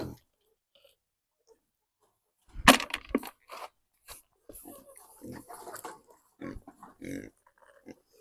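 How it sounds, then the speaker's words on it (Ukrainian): Pigs squeal and grunt in short bursts at close range, with a voice talking intermittently among them. "Вечеря була свиням, бо вони всі пищать вже хочуть їсти."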